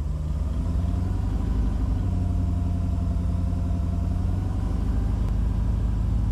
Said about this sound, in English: put your foot on the gas and get it up to 1500 and watch it